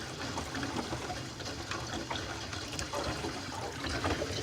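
Water rushing and trickling through newly installed PEX pipe fed by a solar hot water heater, a steady broadband gurgling flow with faint splashes that continues without pause.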